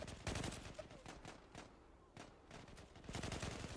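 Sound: gunfire in the video game Zula

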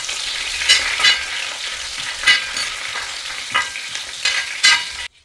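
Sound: crushed garlic frying in pan for chicken roast

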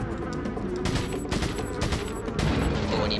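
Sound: TMP submachine gun firing in Resident Evil 4 video game

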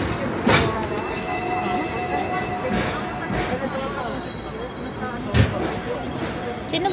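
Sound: train arriving

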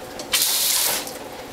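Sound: kitchen spray nozzle rinsing juicer parts

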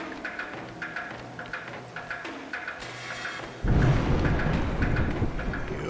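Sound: thunder in the video game A Juggler's Tale

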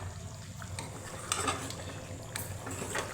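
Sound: stirring egg kurma in a pan

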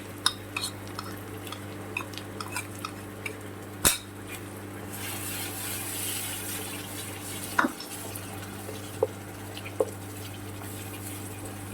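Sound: stirring yogurt-spice mixture into dhaba-style sabzi in pan

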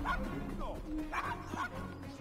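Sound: dog barking in video game Assassin's Creed Syndicate

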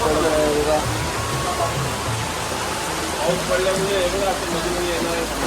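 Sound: rain falling during a pilgrimage walk

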